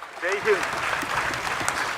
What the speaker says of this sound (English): scientists and space enthusiasts gathered to witness history and broke into applause